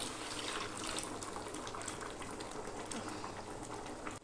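Tamarind-lentil water pours steadily into a pot, a continuous gushing splash that stays even from start to finish.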